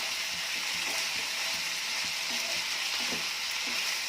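Potato pieces are stirred through a sizzling broccoli tomato curry in a pan, a continuous frying hiss with soft scraping and clinking from the spoon, close by and without talk.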